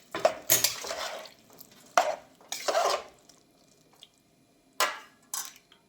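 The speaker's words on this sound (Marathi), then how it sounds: "याला छान मिक्स करूया." A spoon stirs a mixture of soybean chunks and rice in a pot, giving several separate scraping, squishing strokes with pauses between them, close and moderately loud.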